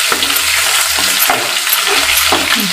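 Thick masala paste for egg curry sizzles and sputters in hot oil while being stirred, with scraping spoon strokes over a steady close frying hiss.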